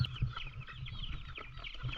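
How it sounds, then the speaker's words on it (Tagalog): Chickens at a riverside nature farm cluck continuously nearby in a busy, overlapping flock chatter of short clucks and low murmurs. "Mga manok."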